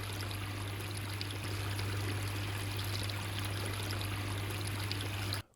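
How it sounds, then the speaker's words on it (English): A backyard pond waterfall pours water over stones in a steady, close rushing hiss, with a low constant hum underneath and no voices. "The water cascading over the stones instantly breathed more life"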